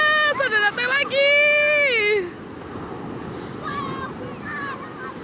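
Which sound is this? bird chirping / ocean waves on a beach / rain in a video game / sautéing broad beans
ocean waves on a beach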